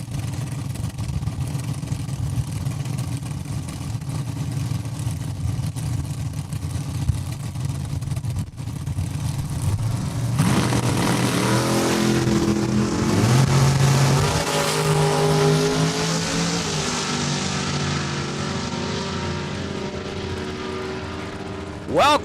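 An RWH Motorsports AMC Hornet drag car idles with a low rumble at Saskatchewan International Raceway in Saskatoon, then launches into a loud, rising engine roar that sweeps upward and fades down the track.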